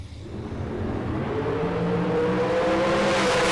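Dragster race cars at a drag strip event, a building distant engine drone that rises and holds steady with a whirring tone, no voices.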